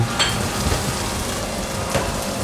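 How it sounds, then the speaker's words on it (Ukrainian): Steady crackling sizzle of sea asparagus (samphire) frying in a pan, close and continuous, with a few louder pops and stirring scrapes. "Поки воно смажиться"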